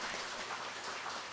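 Church congregation at a Sunday worship service applauding in welcome, a brief, soft, even patter of clapping from many people heard from a distance.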